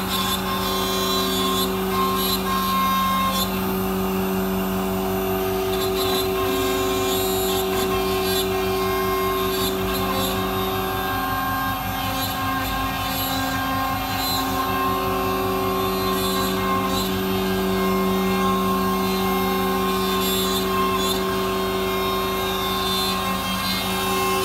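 A MultiCam 3000 series 5x10 CNC router, model 3-204, cuts an intricate design with a small tool at 225 inches a minute. The machine whines loud and steady with sustained tonal hum and fine cutting chatter throughout, with no voices.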